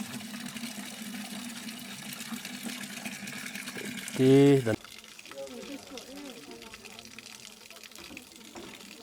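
A household water tap in Doba, Nepal, runs with a steady hissing flow at close range, while people talk over it and a brief loud vocal burst cuts in midway.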